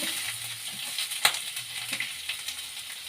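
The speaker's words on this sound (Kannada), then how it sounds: "ಈಗ ಫ್ರೈ ಮಾಡೋಣ. ಚೆನ್ನಾಗಿ ಫ್ರೈ ಆಗಬೇಕು." A tempering of mustard seeds, cumin, chana dal, urad dal, asafoetida, ginger and garlic fries in hot oil for a potato fry, giving a steady close sizzle with light crackles and a few sharp pops.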